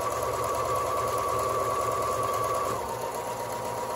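A sewing machine stitches a half apron in one continuous, close, rhythmic run, its needle pulsing evenly throughout with no talking.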